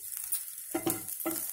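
Garlic drops into hot oil for a cauliflower capsicum Manchurian, giving two short bursts of sizzling close up, with quiet pauses between them.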